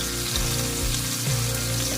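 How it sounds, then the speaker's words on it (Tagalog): Hot water poured into a pan of marinated pork chops, a steady hiss and trickle with low sizzling bubbles, close and continuous for a couple of seconds with no voices. "Yan guys, lalagyan na natin ng konting tubig."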